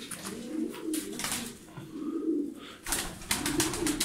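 Tumbler pigeons in Darıca cooing in short repeated bursts close by, with soft rustling between calls.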